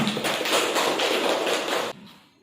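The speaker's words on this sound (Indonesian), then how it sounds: "Kita beri aplaus untuk kelompok 1." Audience applause for a student presentation group in a classroom setting, a dense burst of clapping lasting about two seconds before cutting off to quiet room noise.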